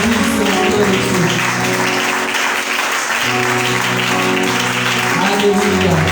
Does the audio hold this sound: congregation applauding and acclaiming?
yes